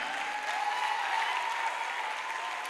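A church congregation at Bethanie Libreville claps loudly and steadily, a dense, continuous wash of applause from a crowd with no break.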